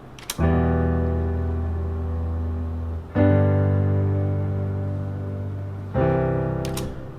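A melody of sustained, piano-like notes, each struck with the same even force, three loud phrases in a row with no voices.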